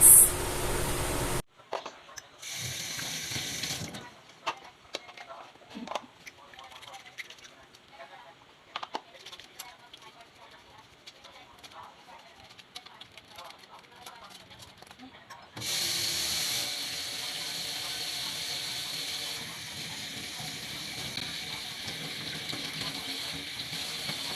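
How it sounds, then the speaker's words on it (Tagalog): Water running at a sink during hand washing, a soft steady spray that comes and goes, then a louder continuous gush toward the end, close by. "So after we do the hand washing"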